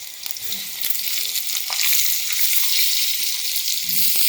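Spiced mango pieces tip into a hot pan and set off a loud, steady hissing sizzle, with a few stirring knocks and scrapes early on.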